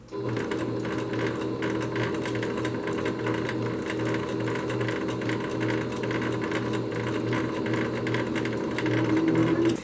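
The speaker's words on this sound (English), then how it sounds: "So now to sew it." A sewing machine stitches a phone case, running steadily and loudly with a fast, even mechanical chatter throughout, without pause and with no talking.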